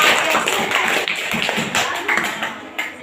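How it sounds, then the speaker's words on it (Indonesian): A group of students claps for a classmates' group in a school lesson, brisk, somewhat uneven clapping from a small crowd close by, with voices mixed in. "Tepuk tangan untuk kelompok"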